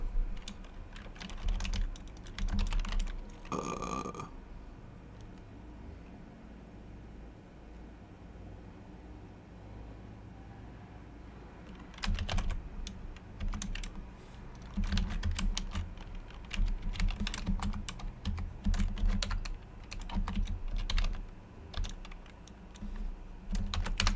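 Typing on a computer keyboard at a desk, with clusters of rapid clicking keystrokes in bursts, a quieter pause in the middle, then steady typing again, close and moderately loud over a low room hum.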